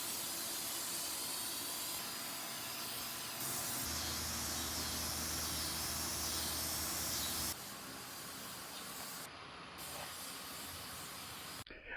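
HEB grilling oil sprays in a steady, close hiss over an Old Country Brazos offset smoker, a few long continuous bursts broken by short gaps.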